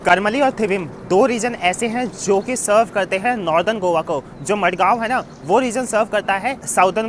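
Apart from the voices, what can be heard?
No everyday noise stands out behind the speech.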